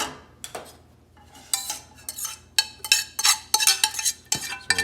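Cooked basmati rice being scooped from one bowl into another with a utensil, producing a series of scraping and clinking strokes that grow busier and closer toward the end, with no talking.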